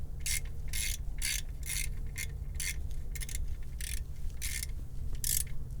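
A half-inch hand ratchet tightens the oil drain plug on a Jeep with a 3.6L engine, giving close, bright bursts of clicking in an uneven rhythm over a steady low hum.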